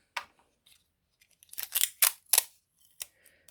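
Tape is pulled and torn off a roll while taping down a coordinating craft die, giving a few close, crisp ripping and crackling bursts with short pauses between them in an otherwise quiet room.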